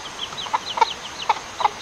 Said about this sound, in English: here is our mama chicken and her three babies.